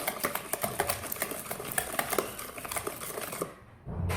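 Sugar being whisked by hand in a bowl for a Algerian soft cake batter, quick rhythmic scraping and tapping strokes at close range, steady for a few seconds then pausing.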